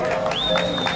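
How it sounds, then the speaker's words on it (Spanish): Applause from a crowd at the APF awards ceremony as the third-place team, Paranaense, is honoured; a brief, steady wash of clapping with a thin tone running through it. "Fuertes sus aplausos, tercer puesto"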